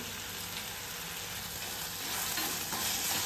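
Tomato being stirred and mashed with salt in a hot cooking pan for a drumstick gravy, giving a steady soft sizzle with scraping stir sounds that grow slightly louder toward the end, no voices.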